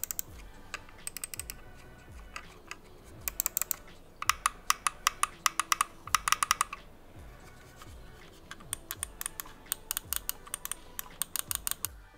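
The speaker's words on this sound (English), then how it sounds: "a lot of users prefer their mouse clicks to be silent. Well, this one is not at all silent." Rapid, sharp plastic clicks from a cheap gaming mouse's buttons in irregular bursts, close and crisp, with quiet pauses between flurries and no talking.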